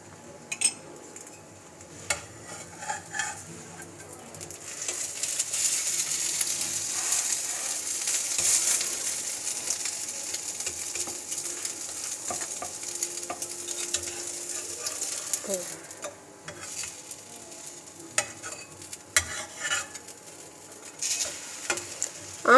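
A veg mayonnaise sandwich sizzles in oil in a pan over low heat, a soft continuous frying hiss with occasional light scrapes and clinks, fairly quiet and with no talking.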